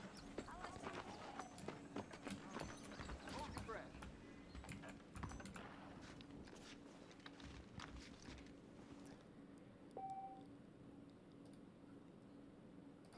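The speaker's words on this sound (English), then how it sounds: "Let's go ahead and hitch up our horse" Horse hooves clop in Red Dead Redemption, a rapid run of sharp hoof strikes that thins out and stops partway through, quiet and mixed with clicks, under a voice.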